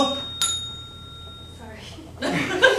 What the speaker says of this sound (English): I hope that wasn't a double bell to say get off